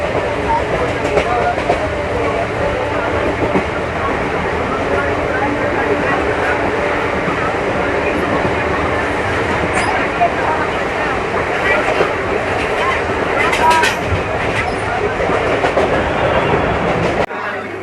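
Inside a crowded local train carriage, a constant loud rumble of wheels and rattling runs without pause, with clickety-clack beats and murmurs of passengers mixed into the din.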